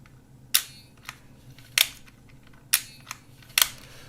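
A Kodak half frame film camera's shutter fires four times in a row, each a sharp, close mechanical snap, with a few softer clicks in between and no talking.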